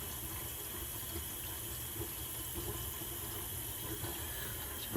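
Water runs steadily from a newly installed Kohler kitchen faucet into the sink, a continuous even splashing hiss with no voices.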